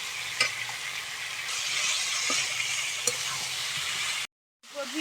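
Fried cauliflower and potato being stirred into a spice paste in a pan for a Bengali meal; a continuous close sizzle with occasional scrapes and taps, then a brief dropout before the frying resumes.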